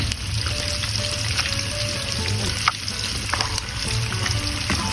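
Pork lechon kawali fries in hot oil with a steady, dense sizzle and crackle, with occasional sharper pops over a continuous hiss, close and moderately loud with no talking.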